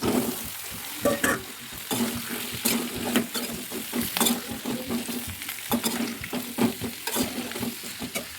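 Tomatoes fry in a hot pan with coconut for tomato chutney, sizzling softly under repeated sharp clinks and scrapes of stirring.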